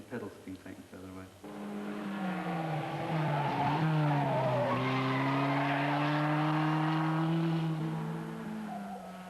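A racing car laps a track, its engine note rising and sweeping in pitch as it accelerates past, loud and close with a long sustained whine and some tyre noise.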